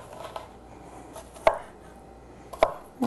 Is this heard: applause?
no